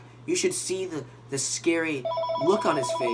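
A telephone rings with a repeated electronic tone beneath a person talking, the ringing rising clearly in the final second while speech carries on over it.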